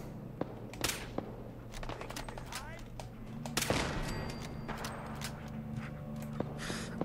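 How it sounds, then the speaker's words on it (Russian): A machine gun turret in Fallout 4 fires scattered, sharp shots at a distance, alongside other faint clicks and thuds, while someone talks over it. "Турель с пулеметом"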